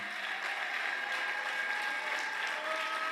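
A church congregation applauds and cheers in acclamation of Jesus during a worship service, a dense, steady wash of clapping and voices filling the room from start to finish.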